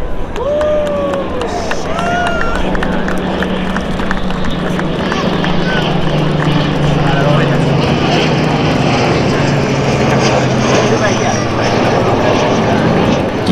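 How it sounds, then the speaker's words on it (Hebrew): Propeller aircraft engines roar loud and steady through a takeoff run at a flight academy air show, a constant heavy drone with faint crowd noise beneath and no break in the sound. "הם פתחו מנועים, הפעילו את מערכת העשן המיוחדת עם טוסי הצוות, החלו בריצת המראה ואוספים מהירות"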